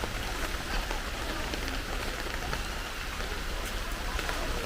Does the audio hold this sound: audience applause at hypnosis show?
no